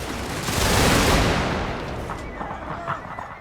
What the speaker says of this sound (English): Give them suppression fire.